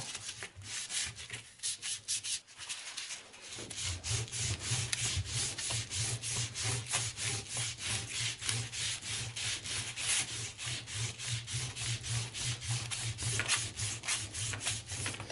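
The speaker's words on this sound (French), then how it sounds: "je vais mettre un coup de toile à grain fin, histoire de supprimer les petites piqûres de rouille" Fine-grit abrasive cloth rubbed over rusty pitted metal on a Citroën 11 driveshaft part, a fast rhythmic back-and-forth scratching that runs continuously and close after a brief irregular start.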